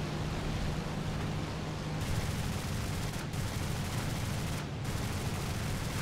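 A rear gunner's machine gun rattles in an arcade air battle in War Thunder, a dense, continuous stream of rapid fire over engine roar, broken by two brief pauses.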